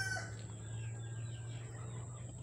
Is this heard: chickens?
yes